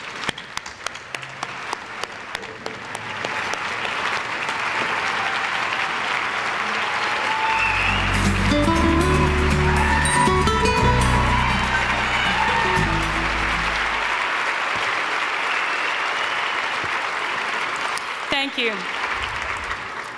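Loud, sustained applause from a gala audience welcoming Marjorie Dannenfelser, swelling into dense clapping and crowd noise midway before tapering off, with some voices mixed in.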